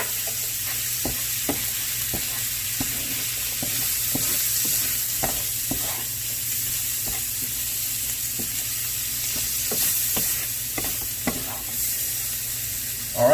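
Southwest egg roll filling with pickled jalapenos sizzles loudly and steadily in a pan, with repeated soft scraping taps of a spoon stirring throughout, close and without talk.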